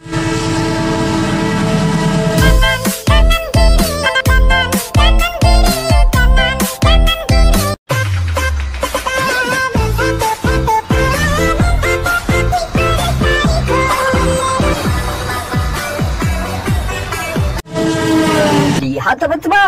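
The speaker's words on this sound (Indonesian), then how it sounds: "Lihat teman-teman, ada kereta api lokomotif CC203." A CC203 diesel locomotive passes close by, sounding its horn in long, loud repeated blasts over the heavy rumble of the engine and rolling wagons.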